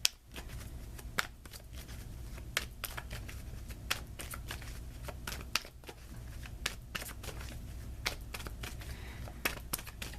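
Tarot cards are shuffled and handled in quick, light riffling bursts that repeat across the stretch, soft and close with no talking.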